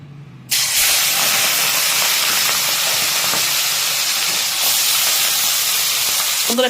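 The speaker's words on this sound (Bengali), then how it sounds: "সুন্দর, এখানে এক সাইডটা কিন্তু হয়ে গেছে ভাজা।" Small fish coated with salt and turmeric meet hot oil in a pan. After a brief quiet moment, a loud, sustained sizzle and hiss bursts in and carries on steadily.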